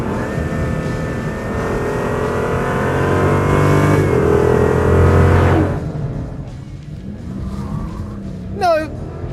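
A Chrysler 300 V8 revs hard with a rising, roaring pitch that climbs then cuts off abruptly, followed by a quieter rumble and a brief chirp.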